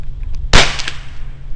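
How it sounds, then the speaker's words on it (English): A single sharp crack of a large rifle Magnum primer firing in a smokeless muzzle loader, loud and close, standing alone against a low background hum. "large rifle Magnum primer firing"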